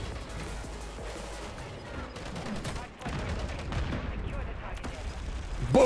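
An SAE bombing strike in Call of Duty Modern Warfare III sets off a dense, rumbling barrage of blasts and gunfire-like bursts, steady and loud throughout, ending in a sharper burst.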